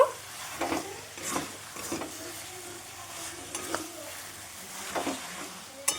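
Chickpeas stir-fried in goat fat, a soft sizzle beneath repeated spatula strokes and scrapes that come in a loose rhythm, fairly quiet and close, with no speech.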